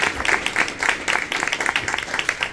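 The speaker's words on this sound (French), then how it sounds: "on peut l'applaudir" Applause from an audience at an ecological transition project awards ceremony, steady dense clapping that carries on throughout, fairly loud and close with no voices over it.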